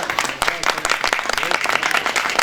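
Brisk clapping and applause from the crowd at a youth football cup medal ceremony for the Eskişehir Anadolu University youth team, dense and close with individual hand claps standing out throughout.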